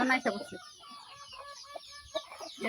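Chickens on a rooftop cluck close by in short, irregular bursts, with a few louder calls punctuating the clucking.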